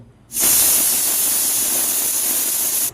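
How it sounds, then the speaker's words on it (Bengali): A pressure cooker holding chicken and water lets out one loud, continuous jet of steam lasting almost three seconds, starting abruptly and cutting off sharply, close and alone. "এটা আমি প্রেশার কুকারে দিয়ে দিয়েছি তো আমি গ্যাসটা অন করে দেবো গ্যাসটা আমি অন করে দিয়েছি অনেকটা জল বেরিয়ে যাবে তো আমি আগে সিটি মেরে নেবো"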